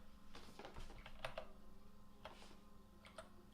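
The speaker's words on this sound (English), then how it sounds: "type in this box, but it's not letting me type" Quiet, close keyboard typing comes in a few short bursts of soft clicks, with pauses between them, over a low steady hum.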